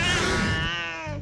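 A cat gives one loud, close, drawn-out meow that rises and then trails off, heard alone.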